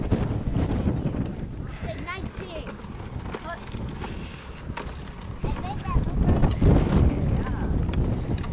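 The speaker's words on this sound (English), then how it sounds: "Woo, it's windy. Feel that wind." Strong wind gusting outdoors on the first day of May, a steady broadband rush with buffeting against the microphone throughout, swelling louder near the end, with a voice talking over it.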